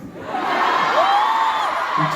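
A young concert crowd cheering and whooping, a sustained wash of high-pitched shouts and screams rising and holding steady for a couple of seconds.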